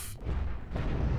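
A large cannon firing in the space game Cosmoteer, two heavy booming blasts in quick succession with deep rumbling tails, loud and up close.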